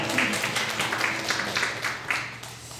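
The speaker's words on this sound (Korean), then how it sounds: "우리 은혜 주신 하나님께 영광의 박수 올려드리겠습니다." A church congregation at a combined youth worship service claps, a fairly quiet patter with regular rhythmic pulses, heard alone without speech.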